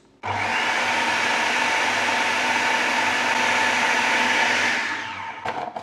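A food processor blitzes lumps of butter into digestive biscuit dough: a loud, steady motor whir that starts abruptly, holds evenly for about five seconds, then winds down with a few clunks.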